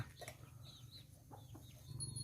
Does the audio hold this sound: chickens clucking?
yes